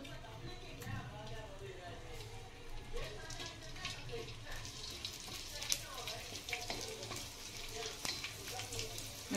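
Edible gum (dink) frying in hot oil until it puffs up, a steady close sizzle and crackle with small pops running throughout, while a person talks over it.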